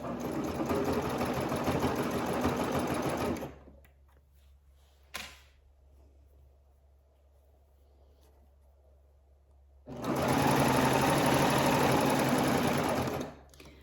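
A serger runs along the raw edges of a dress bodice in two loud continuous bursts of rapid mechanical whirring, separated by a quiet pause with a single faint click.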